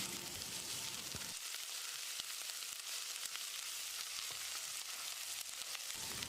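Crushed garlic, ginger and fenugreek seeds fry in hot oil in a pan for a Tamil coconut-milk mutton curry, a loud steady hiss with a sharp burst of sizzling as they hit the pan, alone without talk.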